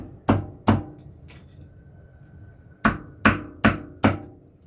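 A knife chops dill on a cutting board in sharp, separate strokes: two quick cuts, a pause, then four more in an even rhythm, close and clear.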